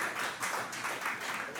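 Steady audience applause at a mentoring lunch event, a brief, fairly faint continuous patter of clapping with no talk over it.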